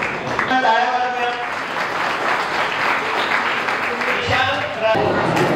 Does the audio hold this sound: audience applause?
yes